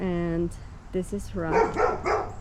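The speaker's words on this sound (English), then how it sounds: "pardon my dog barking." A pet dog barks in a backyard setting, a few short sharp barks near the mic mixed with a person talking over it.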